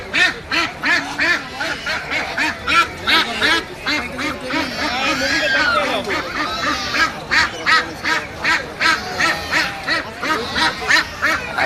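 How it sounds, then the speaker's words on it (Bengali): Belgian ducks for sale at a village livestock market, quacking loudly and repeatedly in a rapid, rhythmic chorus from close by, with a steady murmur of market noise underneath. "পাশে যে বেলজিয়াম হাঁস বিক্রি করতেছে"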